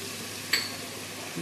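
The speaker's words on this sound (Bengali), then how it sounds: "আমি এটা একটু ভাজা ভাজা করব" Snake gourd cooks with spices and a splash of water in a pan for a prawn dish, giving a steady, close sizzle with one quick metallic clink of a utensil against the pan.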